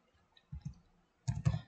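Computer keyboard keys are pressed while drafting in AutoCAD: two quick clusters of sharp clicks, close and moderately loud, with silence in between.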